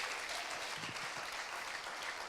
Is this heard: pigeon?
no